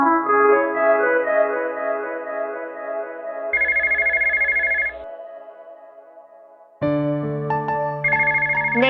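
A telephone ringtone plays through about nine seconds without being answered: a sustained tonal melody, then a pulsing high beeping section, a brief dip, and the ring resuming louder and fuller, with no voices.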